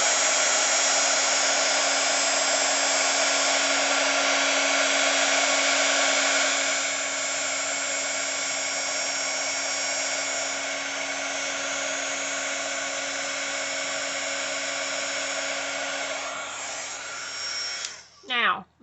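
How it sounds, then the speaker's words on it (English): A heat embossing tool for stamping runs with a steady, loud, hair-dryer-like whine and rush of air that holds for most of the span, softening midway before switching off near the end. "this is going to be loud for a second, but we're just going to turn on the embosser"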